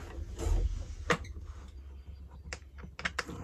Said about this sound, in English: whack the nut on.